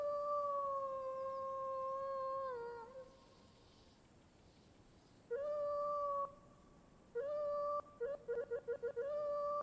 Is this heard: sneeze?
no